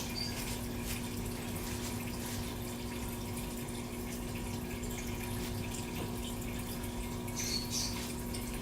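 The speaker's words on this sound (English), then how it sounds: "we're just going to take the water and just put it in here with the cup" Water is poured from a cup into a fish tank, a soft continuous trickle and splash over a low steady hum from the tank equipment, faint and without talk.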